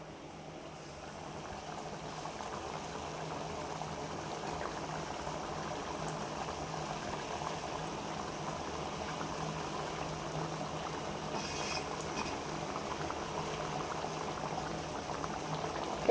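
A pot of lentil dumpling curry simmers with a soft, continuous bubbling and gurgling at close range, with no talk over it.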